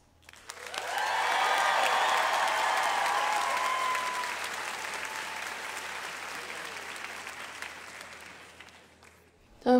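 Student crowd at a school district convocation bursting into loud applause and cheering, building quickly after a moment of quiet, peaking early and then tapering into sustained clapping.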